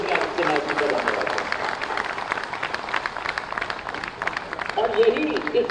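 An audience at a public event in Lucknow honouring Yogi Adityanath bursts into steady applause, dense crowd clapping that rolls on for several seconds at moderate loudness.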